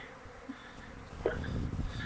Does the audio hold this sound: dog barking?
no